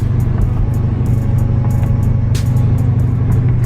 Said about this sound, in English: that supercharger sounds so good, bro